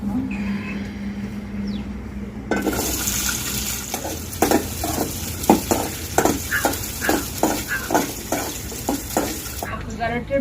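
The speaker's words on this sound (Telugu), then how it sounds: "ఇప్పుడు పచ్చిమిరపకాయలు కూడా వేయిపోయినాయి" Green chilies frying in a pan of oil, a steady close sizzle that jumps louder partway through with repeated clattering stirs and scrapes, then drops back near the end.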